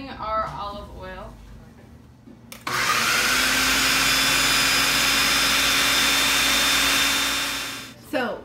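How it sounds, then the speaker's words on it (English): A food processor chops basil with olive oil for pesto, starting with a sudden, loud, steady whirring roar that runs for about five seconds and then winds down. A person talks briefly before it starts. "the food processor doesn't chop it up nearly as fine as it needs to be"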